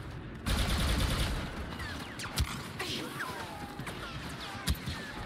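Gunfire from a Star Wars Battlefront 2 battle: a dense burst of rapid shots, then scattered blaster fire and sharp cracks, with a voice talking over the action.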